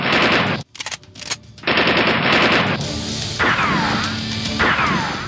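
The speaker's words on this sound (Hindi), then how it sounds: ".38 रिवॉल्वर निकाली और फिर चली गोली।" Gunfire sound effect of a .38 revolver with rapid bursts of shots, loud and close, broken by brief pauses and whooshing sweeps.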